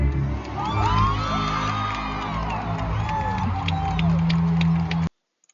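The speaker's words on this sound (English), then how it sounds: "Please, a round of applause for His Grand Immortal Dictator" A big concert crowd on a tour roars and cheers, with rising and falling whoops and screams over a loud sustained wash, some scattered clapping, cutting off abruptly near the end.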